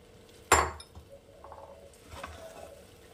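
Cooked chicken stirred into rice in a metal pot, opening with a sharp loud clink of a spoon against the pot, then softer scraping and stirring sounds, close by and without talk.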